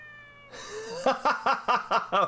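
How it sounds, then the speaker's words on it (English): A cat meows in the video game Yakuza: Dead Souls: one rising call opens, then five short, loud meows follow in a steady rhythm, close and clear with no talking over them. "that is a spirit-filled meow."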